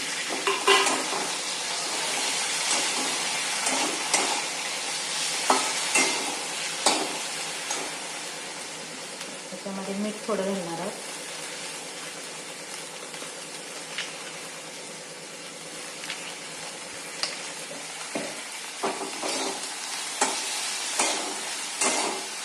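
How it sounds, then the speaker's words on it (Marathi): Vegetables, okra among them, are stirred and sautéed with cumin in a pan, giving a close, continuous sizzle broken by frequent scraping and clinking strokes of the spoon. "आपण हे हलवून घेऊया त्यानंतर हे जे आहे ते परतून घेऊया"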